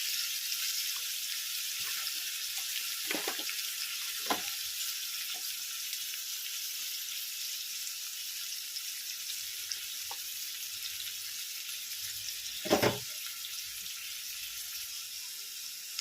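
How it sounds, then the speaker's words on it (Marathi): Onion with turmeric sautéing in a frying pan for methi aloo bhaji, a steady close sizzle throughout with a few soft utensil scrapes and one louder clink near the end. "तर आपला थोडासा कांदा असा परतला आहे"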